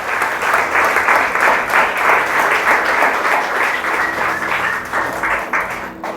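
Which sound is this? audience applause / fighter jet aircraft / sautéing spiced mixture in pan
audience applause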